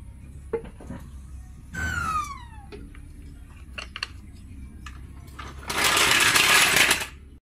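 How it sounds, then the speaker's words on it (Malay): A car jack is lowered during a home engine oil change, with scattered metallic clicks, a brief descending whine, then a loud, sustained hissing rush that fades out. "kita akan turunkan jack nih"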